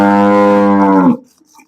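A first-calf dairy cow being milked lets out a single short, deep, loud moo about one second long, ending abruptly into near silence.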